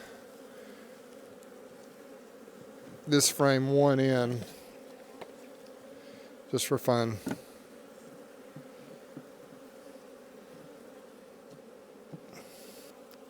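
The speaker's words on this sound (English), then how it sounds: "Beautiful box of bees." Honey bees hum in a constant low drone around an open hive box in a bee yard. Someone speaks briefly twice over the buzzing.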